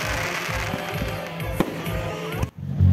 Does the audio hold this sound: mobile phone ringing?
no